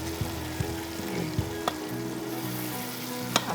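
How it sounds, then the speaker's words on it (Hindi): Tomatoes fry in a pan with a steady close sizzle, punctuated by several sharp clicks and taps of a spoon against the pan. "तो थोड़े से हम टमाटरों को अच्छा सा भून लेंगे"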